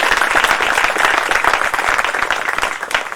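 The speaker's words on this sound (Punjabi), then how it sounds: "ਤਾੜੀ ਮਾਰਾਂਗੇ।" Congregation at a prophetic Christian ministry service in Bahadurpur clapping hands together, a dense, steady burst of many hands close by that fills the whole moment without pause.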